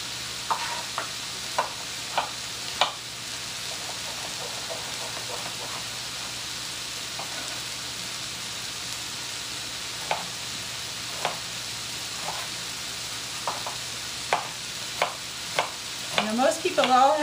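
Potatoes seasoned with salt cook in a pan for a curry, a steady low sizzle running throughout while occasional sharp clicks of stirring and spoon scrapes break through, growing busier near the end.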